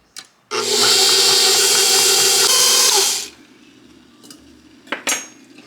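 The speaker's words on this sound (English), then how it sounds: "so we're going to mix that up" Cinnamon batter being stirred in a bowl with a utensil, a loud, continuous scraping and clattering that lasts about three seconds and then stops abruptly, followed by a few light taps and knocks.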